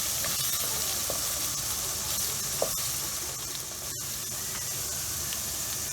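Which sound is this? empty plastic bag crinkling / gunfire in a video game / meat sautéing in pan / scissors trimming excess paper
meat sautéing in pan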